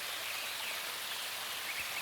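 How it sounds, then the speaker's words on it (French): Torrential river water cascading over rocks makes a faint, continuous rushing hiss with no breaks. "le bruit de l'eau qui déferle en cascade"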